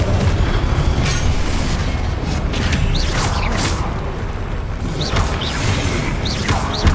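Confringo spell blasts in the Hogwarts Legacy video game, several loud booming bursts with crackling debris and creaking mechanical clatter amid ongoing combat noise.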